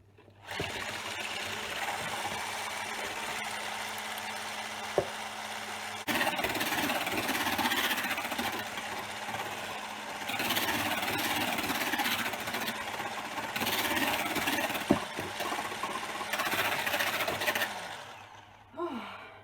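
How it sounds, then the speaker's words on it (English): An electric hand mixer whisks egg whites for a baked yogurt cheesecake, a steady continuous motor whir running near and loud for most of the stretch, shifting in intensity as the beaters move, with a brief clatter and then stopping at the end. "So I'm gonna start to whisk the egg whites."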